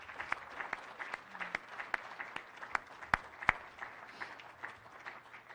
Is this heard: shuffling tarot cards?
no